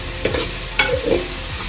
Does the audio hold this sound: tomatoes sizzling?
yes